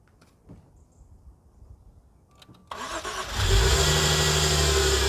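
A car with its battery in the boot, jump-started from a jump pack through the under-bonnet jump points: faint clicks and rustling, then the engine cranks, catches and revs up to a loud, steady run close by.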